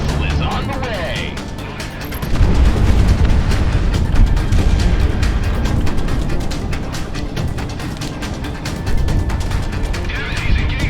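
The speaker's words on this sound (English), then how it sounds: "Missile is on the way." Missile launch and explosions in the combat flight game Project Wingman: a sustained loud rumbling roar with booming blasts runs through most of the stretch, with radio-style voices talking over it.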